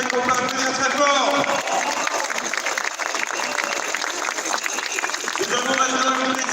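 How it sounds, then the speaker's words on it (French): Loud, sustained applause from a political rally audience, with crowd noise and a voice briefly heard over it. "Bravo à Romain Lefebvre, qu'on peut applaudir très fort."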